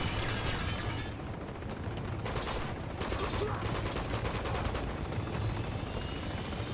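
Enemy gunfire in the video game Uncharted 2, a dense, sustained rattle of automatic fire and bursts that stays loud and close throughout, with no pauses.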